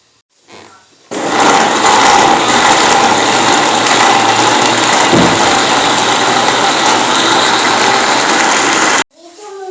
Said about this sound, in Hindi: अब इसको ब्लेंड करेंगे।